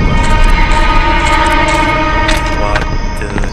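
Rumbling amusement park train ride in the horror game Death Park, a steady loud clatter of rolling wheels with tonal squeals rising near the end.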